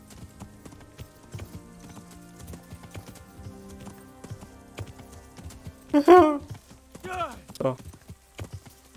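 Hooves clip-clop steadily at a walking pace in the video game Kingdom Come: Deliverance, with a horse whinnying partway through and a brief spoken word over the background.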